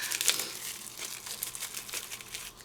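A craft mail package being cut open, close, soft crinkling and rustling of packaging with a few sharper crackles and tearing scrapes.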